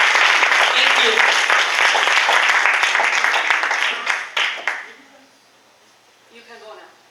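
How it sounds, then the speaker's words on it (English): Graduation ceremony audience applauding the graduates, loud sustained clapping from a large crowd that fades out near the end, leaving quiet voices. "Round of applause, everybody"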